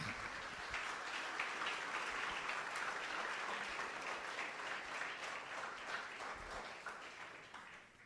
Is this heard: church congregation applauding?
yes